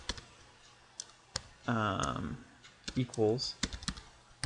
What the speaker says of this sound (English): So what we're going to do is we're going to type product